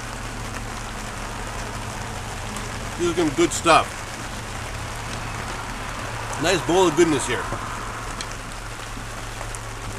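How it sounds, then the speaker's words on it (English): Steady rain falls outdoors on Long Island, a constant close patter on surfaces running through the whole stretch while someone talks briefly over it. "And, it's raining again. It's coming down."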